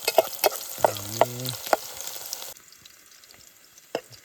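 Phodni of oil with green chilli and capsicum sizzles in a pan at a night group camping site, a crackling spit with a few sharp pops over the first half before the noise drops to a faint hiss.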